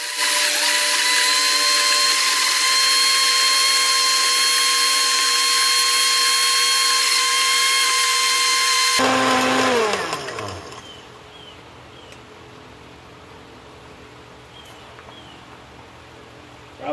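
A machine pulverizing ashed plastic IC chips roars loudly and steadily, then spins down abruptly, leaving a faint rattling hum.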